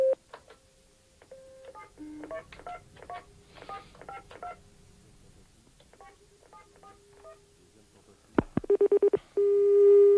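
Touch-tone telephone dialing on a prank call, a rapid run of DTMF beeps followed by a steady ringing tone on the line, close and clear, with short bits of voice and call noise before the dialing.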